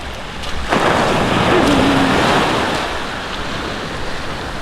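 Waves surge and break on a brown sand beach at Pantai Kuala Raja with a loud rushing wash that swells and slowly recedes, mixed with some wind noise.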